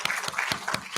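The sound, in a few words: audience applause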